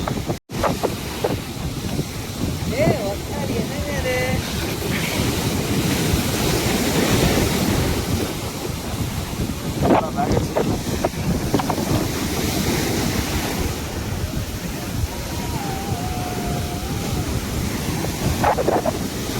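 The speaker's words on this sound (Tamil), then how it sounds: "இதுதான் கடல்." Sea waves and wind at Marina Beach in Chennai make a loud, continuous roar of surf with gusting wind buffeting the microphone, and the waves surge and ebb across the whole stretch.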